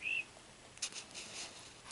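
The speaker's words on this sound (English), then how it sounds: "Got a weird bird making a weird noise." An unidentified bird calls outdoors in the early morning: one clear high whistled note at the start, then faint chirps and rustling scattered through quiet surroundings, with nobody speaking.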